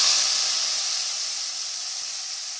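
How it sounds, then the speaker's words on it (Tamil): Hot coconut oil tempering with mustard seeds, dried red chillies, curry leaves and asafoetida hits a Kerala rasakalan and sizzles, a loud, steady hiss that holds throughout and only slowly eases. "தாளிச்சதை இது மேலே ஊற்றிடுங்க"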